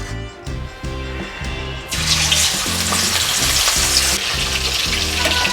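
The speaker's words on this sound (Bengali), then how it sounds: "মাছটা ভেজে নেব।" Rohu fish pieces coated in salt and turmeric dropping into hot oil, bursting into a loud, steady sizzle close by with a rhythmic low knocking underneath; no one speaks.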